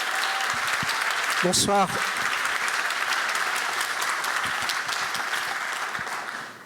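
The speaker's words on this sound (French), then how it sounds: "mais on peut l'applaudir" A crowd at the opening ceremony of an Italian film festival applauds continuously, thick and even, with a short greeting spoken partway through before the clapping gradually fades.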